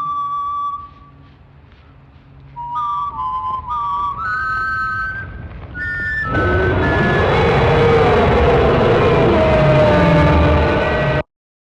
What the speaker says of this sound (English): as the whistling continues, it becomes more intense